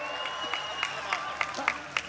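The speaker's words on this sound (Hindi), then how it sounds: "ताली बजाओ यार, कम से कम गर्माहट यहाँ आए" An audience at a Hindi comedy poetry gathering claps, a scattered burst of applause with sharp periodic accents under a raised voice.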